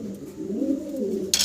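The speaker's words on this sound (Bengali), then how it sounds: "এক জোড়া ব্ল্যাক শৌকিং কবুতর আপনাদেরকে দেখাচ্ছি।" A pair of black Shouking pigeons coos in a low, rolling, throaty call, close and steady for over a second, ending with a brief burst of noise.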